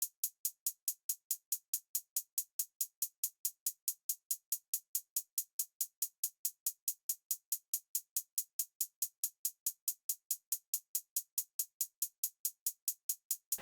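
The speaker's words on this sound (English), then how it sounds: "I just played this very simple two-step hi-hat pattern and ended up sounding like this" Fast, evenly spaced trap hi-hat ticks in a simple two-step pattern repeating in a steady, unbroken rhythm, crisp and bright, played alone with no other instruments.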